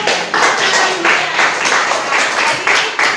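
A classroom of students claps in a brief rhythmic burst, loud and close, with repeated patterned pulses of hand claps.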